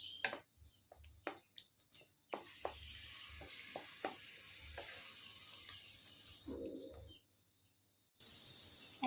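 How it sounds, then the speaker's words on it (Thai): Sweet potato filling for Thai sesame balls cooks down in a pan with coconut milk, giving a steady soft sizzle and bubbling broken by repeated sharp scraping and clicking of a utensil, with a brief quiet gap near the end. "เคี่ยวให้มันจนเหนียวนะคะ"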